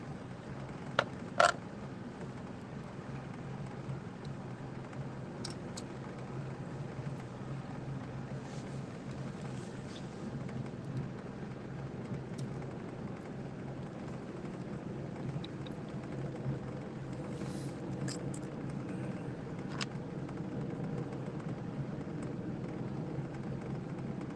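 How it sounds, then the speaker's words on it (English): A fishing boat idles slowly back toward a boat ramp, its engine a low, steady rumble that continues throughout with wind and water noise, a couple of brief knocks near the start, and no speech. "We're idling back towards the boat ramp right now."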